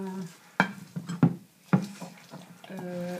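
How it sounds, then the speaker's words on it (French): Crêpe batter with milk being whisked in a bowl, a run of sharp scraping and tapping strokes at an uneven rhythm, close and clear, with a voice speaking briefly at the start and again at the end. "Et je vais mélanger ça jusqu'à ce que ça devienne une pâte"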